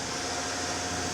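A Tormach CNC mill running a horizontal finishing pass on an accuracy and surface-finish test part, giving a continuous steady mechanical whir and hum with a faint tonal drone, without speech.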